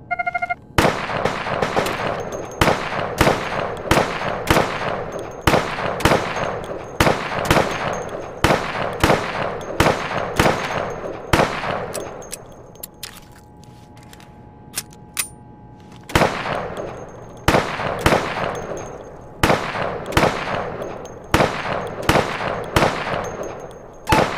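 Rapid gunfire from shooting targets at a firing booth in the 2014 game Insurgency: close, loud bursts of shots in quick succession, a short lull midway, then more sharp volleys.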